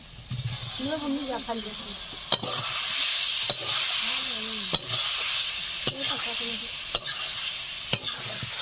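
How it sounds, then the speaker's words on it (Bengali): Fried fish and potatoes stirred into sizzling spiced masala for a Bengali fish curry, with loud sharp spatula scrapes and clacks against the pan every second or so over continuous frying hiss, and a voice talking in the first half. "মশলা কষে নেওয়া হয়ে গেছে, এখন ভেজে রাখা মাছ আর আলু দিয়ে দিচ্ছি"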